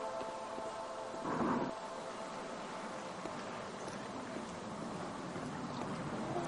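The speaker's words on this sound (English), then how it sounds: "The wind's blowing. This is cool. I've never heard the wind like this." Wind blows through an outdoor scene in a video game as a steady, hollow rushing noise of moderate loudness. It swells briefly early on and otherwise holds fairly even, with no voices.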